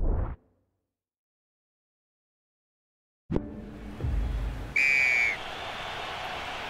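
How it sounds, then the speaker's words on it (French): A referee's whistle blows for half-time in the rugby video game Rugby 22, during a Wales versus France Six Nations match: one clear, sustained shrill blast over a loud, steady stadium crowd roar that starts after a silent gap. "L'arbitre siffle la mi-temps."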